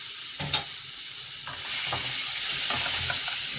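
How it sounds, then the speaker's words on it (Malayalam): Crab curry sizzles and fries in a pan, with scraping stir strokes in short bursts and a steady frying hiss throughout, loud and close. "ഇടക്കൊന്ന് തുറന്ന് ഇളക്കിയിട്ട് കൊടുത്തോട്ടോ."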